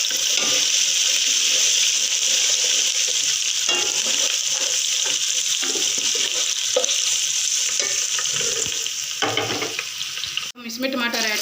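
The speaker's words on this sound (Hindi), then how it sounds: "लहसुन अदरक का पेस्ट डाल रहे हैं। थोड़ी देर इसे भूनेंगे" Garlic ginger paste fries with golden onions in a pan, giving a continuous loud sizzle with scraping stirring strokes throughout and a brief clatter near the end.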